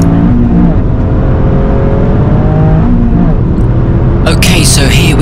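A Toyota GR Yaris drives hard on the Brands Hatch Indy circuit on a trackday, its loud engine droning and shifting pitch close-up inside the cabin, with a brief burst of higher noise near the end.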